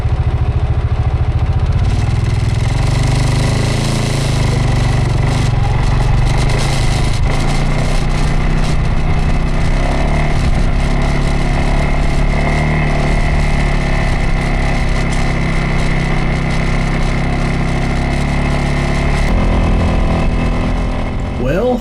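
Four-wheeler ATV engines laboring up a steep mountain trail in Park County, Colorado, a loud continuous low rumble with rattling and wind buffeting throughout, steady for the whole stretch.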